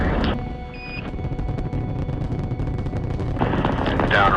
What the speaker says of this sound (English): Liftoff on Apollo 11.